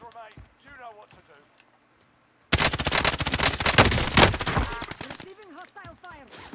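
Sudden burst of rapid automatic gunfire in Call of Duty Warzone, loud and dense for about two and a half seconds, with speech before and after it.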